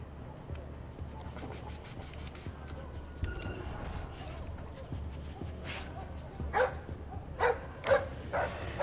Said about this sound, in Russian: псы могут учуять вас, не подходите к ним близко